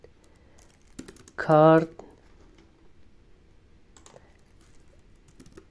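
Sparse, faint keystrokes on a computer keyboard click lightly around a short spoken word.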